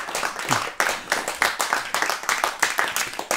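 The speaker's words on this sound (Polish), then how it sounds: "To poprosimy może o brawa" A small group applauds a band in a radio studio, the individual claps distinct and uneven, near and fairly loud, with a brief voice early on.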